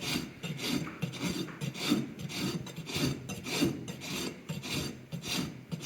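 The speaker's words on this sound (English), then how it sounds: "I'm letting that rasp glide across the hoof" A hoof rasp is pushed in long, even strokes across a horse's hoof during trimming, a rhythmic gritty scraping repeated about a dozen times, close and clear with no talk.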